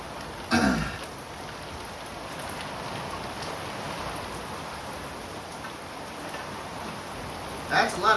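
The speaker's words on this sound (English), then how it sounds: "That's a lot of heavy rain, guys." Heavy rain pouring down during a severe April thunderstorm in the northeastern United States, a constant dense roar with brief louder bursts near the start and end.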